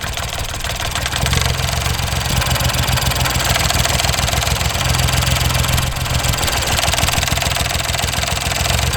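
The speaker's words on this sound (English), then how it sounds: "there's a clear change in the way the engine runs when I disconnect any of the coils" A Ford Fiesta MK7 1.0L EcoBoost three-cylinder engine runs steadily at idle with a slightly uneven, throbbing beat, close and continuous throughout.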